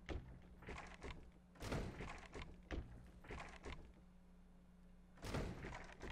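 A door in Resident Evil HD Remaster thumps repeatedly as someone tries to open it, a series of dull, fairly loud knocks at irregular intervals over a low droning ambience.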